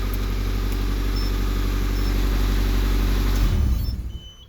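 Nissan Pulsar GTi-R engine at hot idle, a steady low rumble held close and loud, then the engine is switched off and the sound dies away over the last second.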